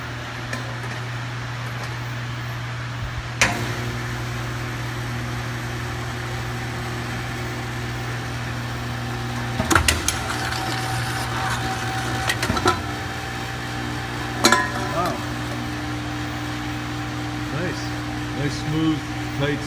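A Dixie Canner Model UD-AL semi-automatic can seamer runs with a steady mechanical hum and drone, broken by a few sharp clanks and knocks as it works, heard up close.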